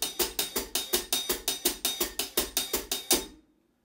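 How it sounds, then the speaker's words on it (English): A tight, steady drum groove of repeated hits with a hi-hat opening and sizzling on off-beats, about fifteen strokes, then ringing out to silence. "which is opening the hi-hat when I play that rhythm"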